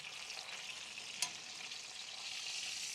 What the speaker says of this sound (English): I'm going to give it that last little dip in that butter